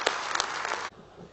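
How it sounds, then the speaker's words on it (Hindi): Listeners at a poetry recital give a brief burst of applause, dense clapping that cuts off sharply after under a second, leaving quiet room tone. "दोनों हाथ उठाकर जोरदार तालियां बजाकर इसका स्वागत करें"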